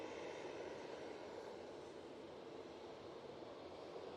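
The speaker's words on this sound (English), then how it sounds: "There's the KLM." A KLM airliner at Manchester Airport gives a steady, moderately distant engine roar that holds evenly throughout with no other sounds on top.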